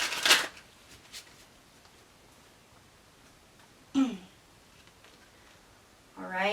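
A few brief riffles of tarot cards being shuffled break an otherwise quiet room, spaced several seconds apart.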